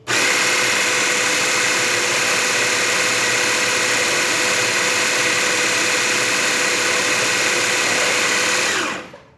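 A Baratza Sette 270Wi coffee grinder with a fault runs with a loud, steady motor whir and grinding hum for about nine seconds, then winds down and stops at the end.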